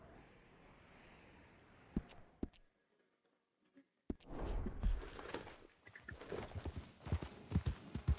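Horse hooves clip-clopping in Red Dead Redemption 2, a run of steady hoofbeats with a brief pause of near silence, then denser, louder galloping mixed with other game sounds.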